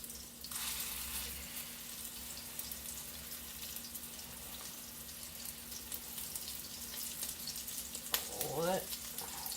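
Swedish meatballs fry in a pan with a steady, moderate sizzle throughout, briefly joined by a short splash of running water near the end.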